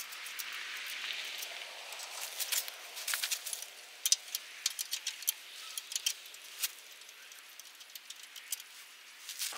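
Bolts being worked loose with a 17mm wrench while attaching a BH92 backhoe to a Kubota MX5100 tractor: a series of light metallic clicks, ticks and rattles at close range, irregular and fairly faint.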